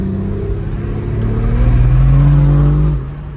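A BMW engine pulls hard under full throttle for a 100–200 km/h run, a loud, steady rising drone heard from inside the car that climbs in pitch, then eases off near the end.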